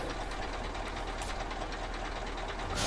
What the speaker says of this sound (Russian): Что-то движок у меня подстукивает, по-моему.